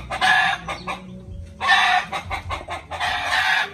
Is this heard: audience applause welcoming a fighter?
no